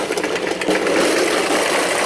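A work truck engine idles with a steady low rumble through its stock factory exhaust, close by and unbroken.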